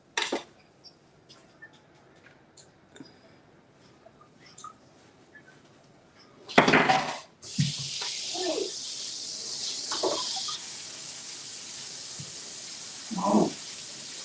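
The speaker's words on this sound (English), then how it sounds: "Let me go rinse this off real quick here" After a few quiet knocks and a thump, a kitchen faucet runs steadily to rinse something off, with an even rushing stream lasting about seven seconds and a few faint clatters mixed in.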